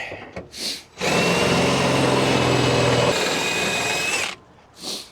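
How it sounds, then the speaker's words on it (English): A power drill bores through a heavy steel rib of a 2007 Ford F250 truck bed while a fifth wheel hitch is installed, a loud steady whine holding for about three seconds with brief metallic bursts before and after. "Let me drill it."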